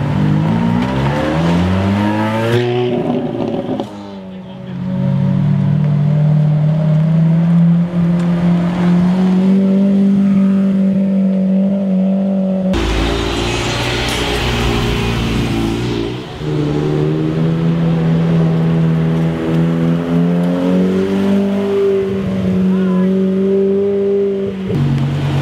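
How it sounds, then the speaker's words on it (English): A naturally aspirated V10 exotic car with side-mounted exhaust tips revs hard while driving, its loud engine note climbing and falling in repeated surges, close by and filling the whole scene. "naturally aspirated V10, definitely has power. It's very loud"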